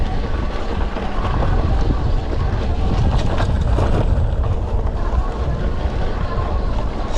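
A Lectric XP 3.0 e-bike rolls over bumpy ground, with a steady loud broadband rumble and rattle mixed with wind noise on the microphone, continuous for the whole stretch.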